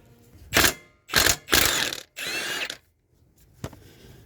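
A ratchet undoing a CTX gearbox drain bolt: four rapid clicking bursts of about half a second each, close and loud, with short pauses between them, then a single faint click near the end.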